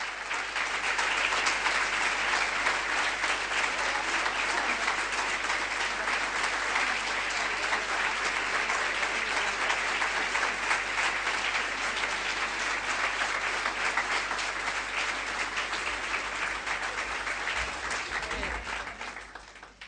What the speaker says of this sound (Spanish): Estos aplausos son para Virgen María y para Dios